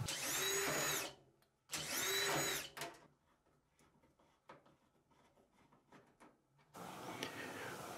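A power screwdriver backs Phillips screws out of the bulkhead of a Samsung dryer. Two loud whirring bursts come close up, followed by quiet clinks and handling of parts, then a final buzzing run.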